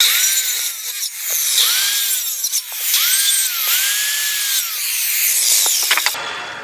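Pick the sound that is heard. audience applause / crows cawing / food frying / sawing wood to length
sawing wood to length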